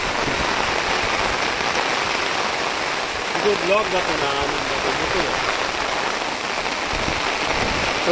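Heavy monsoon rain pours over flooded fields in the Konkan, a dense, loud steady hiss with a brief voice rising through it midway.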